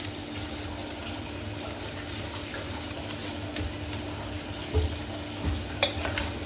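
A biryani-style rice dish being stirred in a pan, with a steady soft sizzle and scraping under a constant low hum, plus a few brief louder knocks of the utensil toward the end.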